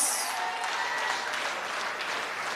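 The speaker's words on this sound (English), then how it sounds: "Give Dr. Joe tremendous applause." A political party conference audience applauds, a thick, even wash of clapping that holds steady from start to finish, full and fairly loud, without distinct voices.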